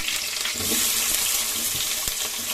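Chopped onions fry in a pan for kachori filling, giving a dense, steady sizzle with watery crackle and a few faint knocks underneath.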